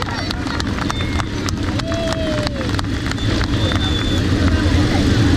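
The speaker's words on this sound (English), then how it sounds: "How about we have a huge round of applause there for my opening riders?" Applause from an outdoor crowd at a steam fair, greeting motorcycle display riders, is a steady dense clatter of clapping that carries on for several seconds with a broad background murmur.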